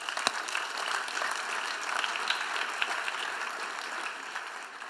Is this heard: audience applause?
yes